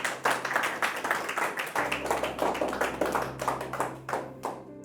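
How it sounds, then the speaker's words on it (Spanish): A church congregation claps in praise, a steady run of quick hand claps filling the room for a few seconds, fairly close and without talk. "Den un aplauso al Señor."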